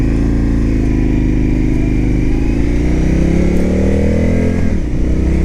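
An Indian FTR S motorcycle accelerating, its engine roaring loud and close with a steady rising drone throughout and a brief dip near the end.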